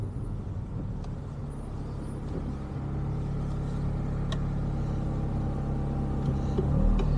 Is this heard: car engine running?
yes